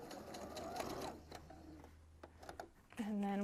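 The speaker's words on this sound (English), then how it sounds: "So we're going to sew until we get to the corner, then we're going to pivot" A sewing machine stitches fabric for a quilt binding, its quiet steady motor hum running close beneath a person talking, then a brief higher whir near the end.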